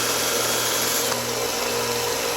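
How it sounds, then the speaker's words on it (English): A drill spins steadily, a wooden piece chucked in it for sanding and rounding the ends, giving a constant loud whirring hum with no pauses. "Then we'll chuck it up in the drill and do a little bit of sanding on the ends to round them off."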